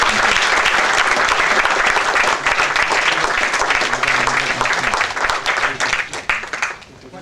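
Loud, close, dense audience applause after a presentation on a traffic decongestion plan for Panjim city, sustained throughout and thinning slightly toward the end.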